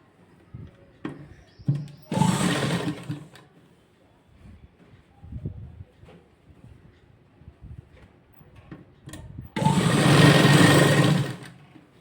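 Sewing machine stitching the V-neck of a frock, two bursts of fast, loud mechanical whirring, one short and one longer, separated by quiet handling clicks and fabric rustles.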